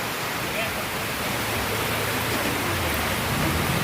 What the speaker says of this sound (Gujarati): દુકાનની પાછળ ફૂલ વરસાદ છે.